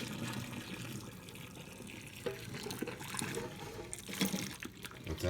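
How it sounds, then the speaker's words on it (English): Pot of just-boiled water being poured out into a kitchen sink while making pho, a steady splashing and running-water wash with gurgling surges, close and fairly loud throughout. "we're going to take this right to the sink and we're going to dump all that water out"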